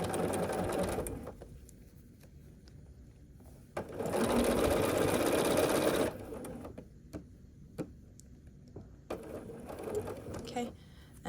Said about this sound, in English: And we'll start sewing this